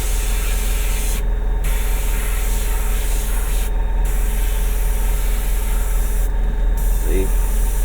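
A Bartsharp airbrush sprays paint in a continuous, loud, close hiss over a steady low hum, with three brief pauses where the spray stops before resuming.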